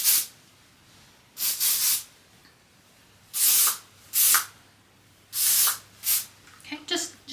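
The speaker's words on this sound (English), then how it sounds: "I'm going to go in with a mix of some texture spray just to help give it a little more lift" Texture spray hisses from an aerosol can onto hair in several short bursts of one to two seconds each, close and fairly loud, with quiet pauses between them.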